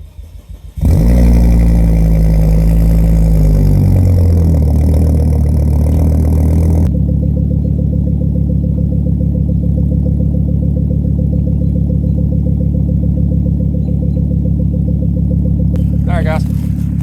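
A project car's engine starts and idles with no exhaust fitted, loud and raw up close, with a rough, throbbing low rumble that settles into a steady idle.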